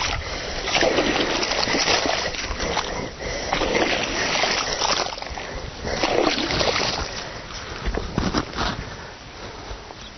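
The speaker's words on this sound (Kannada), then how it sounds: "ನಾವು ನೀರು ಬಿಡ್ತಾ ಇದ್ದೀವ್ರಿ" Water splashing and sloshing onto newly transplanted chili and tomato saplings in an outdoor bed, a loud, continuous wash of pouring and splatter lasting the whole stretch with a few brief voices in the background.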